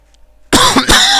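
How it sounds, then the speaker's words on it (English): After a brief quiet, a person coughs loudly and harshly up close during a race stream commentary, two or three rough bursts in quick succession. "Apologies for the coughing."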